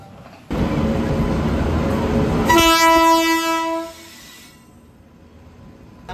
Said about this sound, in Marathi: हमारे ट्रेन आलेले आहे आता बसतो आम्ही